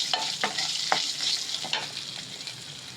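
Ginger, green chilli and dried red chillies sauté in a pan with a steady crackling sizzle, broken by several sharp scraping stirs of a spoon in the first half, then settling into a softer, even fry with no talking.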